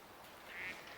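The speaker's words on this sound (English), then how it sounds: "Wild ducks." Wild ducks in the hunting game Way of the Hunt give a single faint, brief quack, distant and partly buried in soft outdoor ambience.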